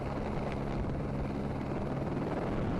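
Helicopter hovering over a rally stage at the 2015 Cyprus Rally, a steady broadband rotor and turbine drone with wind buffeting, continuous and fairly loud throughout.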